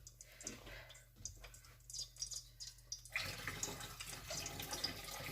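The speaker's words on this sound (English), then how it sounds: "completely drain this rice of water." Water pours and splashes steadily out of washed rice as it is drained at a kitchen sink, growing louder and fuller partway through.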